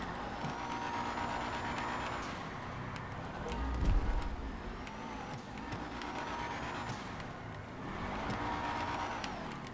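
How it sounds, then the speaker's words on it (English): A Rapid GT drifts around a custom track in GTA 5 Online, its engine droning and rising and falling in repeated revving sweeps, with a low rumbling swell near the middle, fairly distant and steady. "Let's just try to drift this track out normally."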